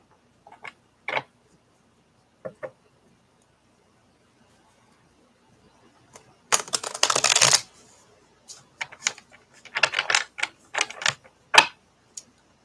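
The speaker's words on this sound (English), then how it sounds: "we're going to pull cards" Playing cards shuffled and pulled from a deck, heard as a few brief soft flicks and then a dense riffling burst followed by a run of sharp snaps and slaps, fairly close and with no talk.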